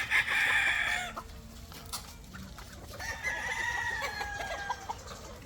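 Young six-month-old local banded stags cluck and crow in a pen, one loud crow up close at the start and further crowing and clucking trailing off over the following seconds.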